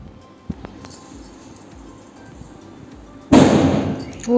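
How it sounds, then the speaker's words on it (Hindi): A firecracker bursts nearby, a sudden loud crack with a hissing, crackling tail, after a small earlier pop amid a quiet indoor festive scene. "वो भी पटाखा ही फूट गया किसी ने फूट दिया।"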